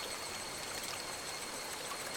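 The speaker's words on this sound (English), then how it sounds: "that water noise helped" A steady stream of flowing water is heard as a background sound effect in a Higurashi When They Cry visual novel reading, a soft continuous wash with no voices over it.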